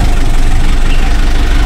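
A motorcycle engine idles close and loud on a mountain trail in Batangas, a steady low rumbling throb that fills the whole short moment.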